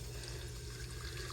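Water pours steadily into a mason jar in an indoor hydroponic setup, a continuous close gushing flow without pauses.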